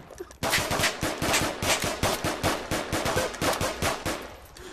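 Rapid automatic gunfire in the VR shooter Onward, a sustained burst of sharp, loud shots in quick rhythmic succession starting abruptly and continuing without pause.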